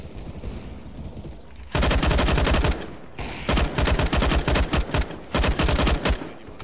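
Bursts of automatic rifle fire in Counter-Strike: Global Offensive, loud and close, coming in several rapid sprays separated by short pauses.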